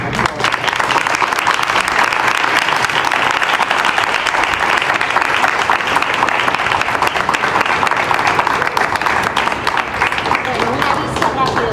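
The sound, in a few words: audience applause after a talk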